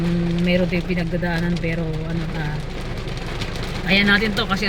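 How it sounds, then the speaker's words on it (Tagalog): Heavy rain patters as a steady wash in the background while someone talks over it throughout. "Mga tignan nyo, lakas ng ulan, no?"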